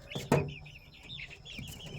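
Burmese fighting chickens, a small flock of roosters and hens, clucking and calling nearby, with one louder close squawk early on followed by softer scattered clucks and chirps.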